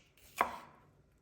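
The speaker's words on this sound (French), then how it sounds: "pour les poivrons, on va venir vraiment détailler de fines tranches" A single knife cut through a bell pepper on a board, one short crisp tap close by, then quiet.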